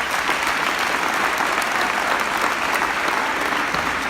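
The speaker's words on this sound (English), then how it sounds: "If we could just stand and give Will one last applause" Steady applause from a sizable audience, a dense wash of clapping that holds evenly for a few seconds.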